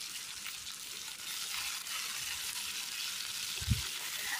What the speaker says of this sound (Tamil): எண்ணெய் சூடானதும் இந்த கட் பண்ணி வச்சுருக்க கோவக்காவை இந்த எண்ணெயில் சேர்த்து இந்த காயோட எல்லா பக்கத்துலேயும் எண்ணெய் படுற மாதிரி நல்லா அந்த எண்ணெயிலேயே வதக்கி கொடுத்துக்கலாம்